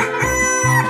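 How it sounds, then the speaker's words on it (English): A cartoon chicken crows in one loud, close, strained burst, harsh and buzzy, standing alone with no talk. "chicken,"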